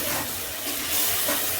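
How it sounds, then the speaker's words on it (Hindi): Water pours steadily into a cooking pot of ghee and spices for daal, a continuous splashing gush, loud and close, with no talking. "ये पानी डालने लगे।"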